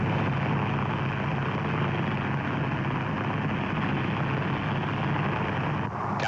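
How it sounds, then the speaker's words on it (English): An F-51 propeller airplane flies in to land at Fargo Airport, its engine a loud, steady, continuous drone that fills the whole stretch without letting up, with no voices. "a National Guard lieutenant was about to land his F-51 at Fargo Airport"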